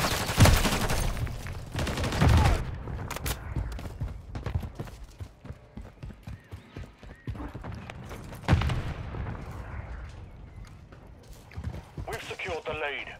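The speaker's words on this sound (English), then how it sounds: "Taking effective fire." Bursts of automatic gunfire and sharp single shots crack in Call of Duty: Modern Warfare III, loud and close at first, then scattered through the scene, with radio-style voices talking over the combat.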